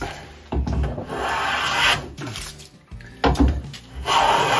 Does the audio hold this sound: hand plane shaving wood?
yes